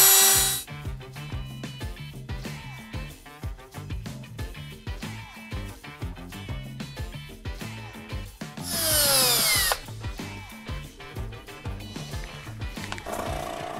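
Power mixer running at slow speed, stirring resin in a workshop before lining 90-degree pipe bends; a steady, continuous mechanical whir with rhythmic churning that holds for the whole stretch and briefly grows harsher and louder near the end.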